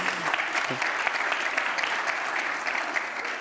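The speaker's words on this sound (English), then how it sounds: "So we can give you a round of applause again." Conference audience applause at an IHE Delft event: a steady, fairly loud wash of many hands clapping throughout, with a brief voice near the start.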